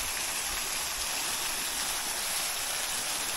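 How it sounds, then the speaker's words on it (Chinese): A mountain waterfall running low in the dry season, a steady, even rush of falling water heard close and continuous with no other sounds. "我们来看一下它瀑布的全景啊"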